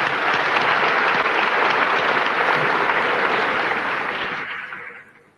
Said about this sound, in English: We must give him another applause.